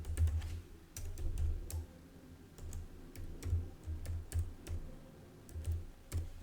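Quick clacking keystrokes on a computer keyboard while entering a recovery email address, arriving in uneven bursts of close, moderately quiet taps.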